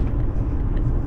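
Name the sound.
car ride interior road noise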